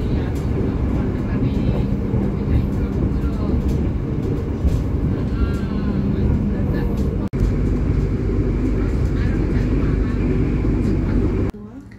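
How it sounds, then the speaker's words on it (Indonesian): Train running under steady loud rumble with a vintage locomotive hauling the KA Logawa into Sragen station in Indonesia, continuous wheel and engine noise throughout with a sharp clank near the middle. "Ada lokomotif vintage, kali ini ia berdinas menarik KA Logawa dan bersiap berhenti di stasiun Sragen."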